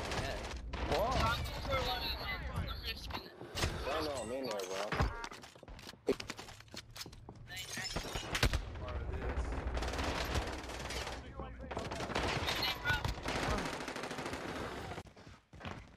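Automatic gunfire and bursts of shots in a Call of Duty Warzone match, loud and frequent throughout amid game sounds and players talking over it.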